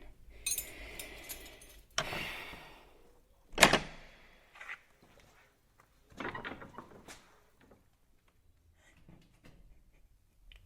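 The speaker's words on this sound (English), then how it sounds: "Open the door and get it done." A door is opened in a quiet room: a few sharp knocks and clatters of the latch and frame, then softer creaks and shuffles with silence between them.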